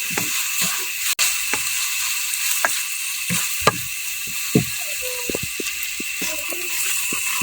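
Chicken meat frying in a pan for pancit bihon guisado, a steady hiss of sizzling oil with scattered clicks and scrapes of a utensil, close and fairly loud with no talking.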